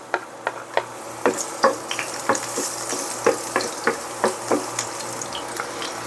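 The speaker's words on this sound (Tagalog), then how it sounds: "At lang gigisahin ang bawang" Garlic sautés in a hot pan, a soft background sizzle broken by a steady run of sharp spatula scrapes and clinks, about two or three per second, with no voices.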